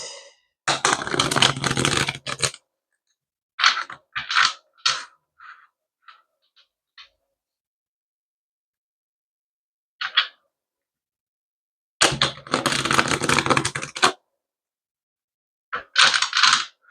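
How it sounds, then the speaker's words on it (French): Tarot cards shuffled by hand in short, crisp riffling bursts separated by silences, close and fairly quiet, with a few lighter taps and slides between. "je brasse les cartes"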